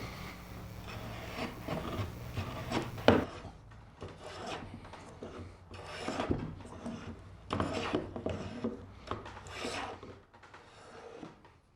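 Hand plane shaving wood with a Nelson 5.5 jack plane, a series of rough rasping strokes in steady rhythm, close and fairly loud, with no talking.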